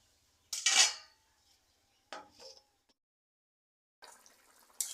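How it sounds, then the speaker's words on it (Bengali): A lid set onto a cooking pot of soybean and water, two separate clattering metal knocks with a short scrape, then quiet and a later faint rustle. "এবার ঢাকা দিয়ে দেবো"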